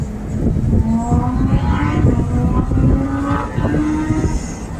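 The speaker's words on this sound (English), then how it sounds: "You can hear the crazy cars out there." Loud, steady traffic noise from cars and engines revving outside, heard from the deck of the docked Norwegian Bliss cruise ship, with a continuous drone and rising accelerating whines throughout.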